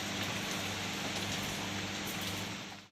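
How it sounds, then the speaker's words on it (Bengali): Steady rain falls outdoors among trees and plants, a soft continuous hiss of drops on surfaces at low level with no voices. "আর দেখো বৃষ্টি আবার জড়িয়ে এলো"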